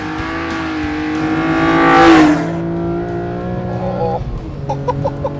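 A BMW M4 engine revs and accelerates hard, a loud rising roar that peaks and fades as the car pulls away, with a brief exclamation from a person.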